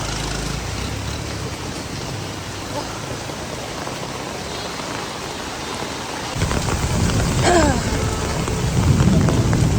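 A hard rain hisses steadily during a storm in Hanoi, with low thunder rumbling under it and the downpour growing heavier and closer in the second half.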